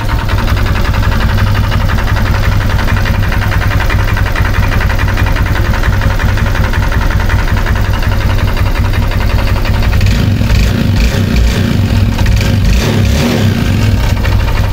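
A Honda Click 150 V1 scooter engine with an abnormal noise, before a top overhaul, runs continuously up close, a loud, steady idle with a rough, knocking texture that grows choppier toward the end.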